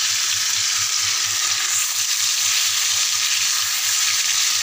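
Fish frying in hot oil in a home kitchen for a tomato fish curry: a steady, loud, broadband sizzle with no break, under a faint low rhythmic hum and with no voices.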